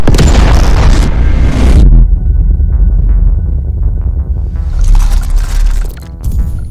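Heavy artillery fires during North Korean military exercises, deep booming blasts and rumbling throbs that roll on in a continuous loud barrage.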